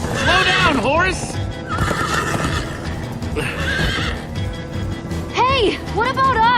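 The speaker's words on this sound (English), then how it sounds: "Slow down, horse!" A horse in Minecraft: Story Mode gallops with steady hoofbeats, neighing loudly at the start and again in a pair of whinnies near the end, with voices and music running underneath.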